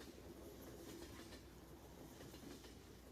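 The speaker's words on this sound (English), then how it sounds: "that is what a train sounds like" Looped train track sound from the Farming Simulator 19 video game, a steady rumbling clickety-clack of rail cars rolling along, continuous and fairly faint, with no voices.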